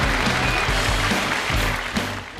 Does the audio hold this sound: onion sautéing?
no